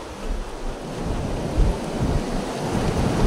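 Sea waves washing onto a shore, a continuous broad roar of surf with swelling rushes, loud and close, no talking.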